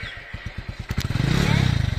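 A borrowed motorcycle idles nearby with a quick, even thumping, then revs up into a louder, faster throb as it pulls away.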